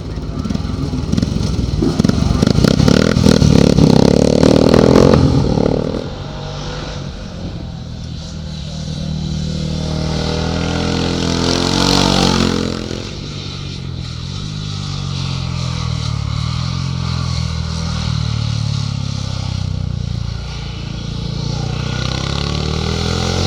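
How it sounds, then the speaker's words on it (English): A classic Norton 500 motorcycle at the 2021 Barbon hillclimb, its engine roaring loudly close by for the first few seconds, then dropping to a steadier, more distant drone with a brief swell in the middle. "riding his Norton 500, another one of the old classic bikes that were at this 2021 Barbon Hillclimb event"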